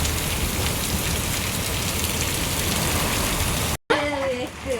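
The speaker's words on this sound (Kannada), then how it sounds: "ನೋಡ್ರಿ ಮಳೆ ಎಷ್ಟು ಜೋರು ಐತ್ರಿ" Heavy rain pours in a dense, steady roar, briefly broken before a voice speaks over the continuing downpour.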